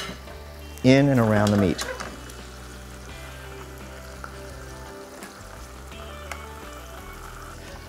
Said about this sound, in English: now I want to put the pork chops back in to not only reheat them, but to really coat them